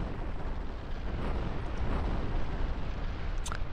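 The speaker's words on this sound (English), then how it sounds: "we have some heavy artillery in the front" Heavy artillery firing in Garry's Mod with ACF weapons, a continuous loud booming rumble with overlapping blasts and a faint high-pitched tone near the end.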